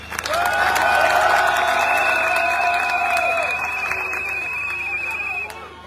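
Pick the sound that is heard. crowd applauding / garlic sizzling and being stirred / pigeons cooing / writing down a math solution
crowd applauding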